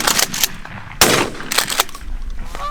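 During a backyard goose hunt, several loud, close shotgun blasts go off in quick irregular succession, with faint outdoor noise between them.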